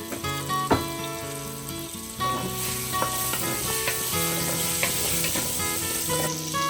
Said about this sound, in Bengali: আলু একটু হালকা বাদামি রং হওয়ার সাথে সাথে দেবে বরবটি আর একটু মটরশুঁটি, সব একসাথে দিয়ে ভেজে নেবে